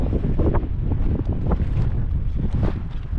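Strong wind at the Oman salt pans buffets the microphone in a continuous, loud gusty roar with low rumbling surges throughout, no voices heard.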